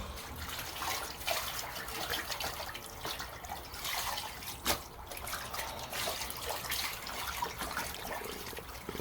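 Cabbage being washed in water for homemade kimchi, a steady splashing and trickling of water with occasional louder sloshes, close by and continuous with no talk.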